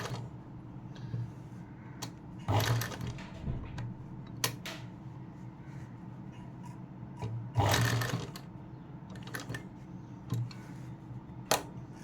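Sewing machine stitching slowly around a curved blouse neckline, with a steady low mechanical hum broken by two louder bursts of rapid stitching and occasional clicks as the needle stops and the fabric is turned.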